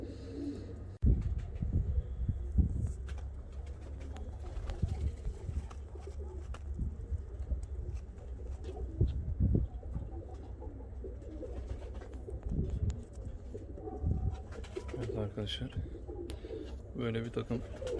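Ornamental and costume show pigeons, breeding pairs, coo softly and repeatedly in a loft, with a steady low murmur of birds throughout and someone talking over them.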